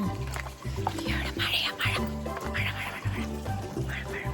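Several ducks quack repeatedly nearby in a busy, overlapping chorus, with a voice briefly audible among them.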